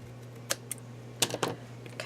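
Scissors snip through paper while a Mother Goose paper bag album is being made: a handful of crisp, close cuts spaced irregularly over a low steady hum, with no talking.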